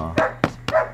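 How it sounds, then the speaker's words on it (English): Dutch Shepherd dog barking during bite sleeve training, four sharp close barks in quick, steady succession with no talk over them. "He's barking now."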